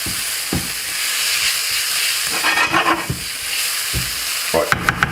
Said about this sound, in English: start to cook out the spices, chipotle paste, with our onions, garlic and peppers